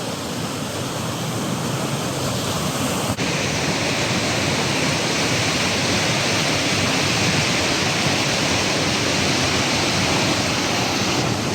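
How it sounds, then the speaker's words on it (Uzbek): Swollen river water rushing through a village in Sherobod district, Surxondaryo, fed by side streams and road runoff: a loud, steady broadband roar that holds unbroken throughout, with no voices. "suvlar ko'paymoqda"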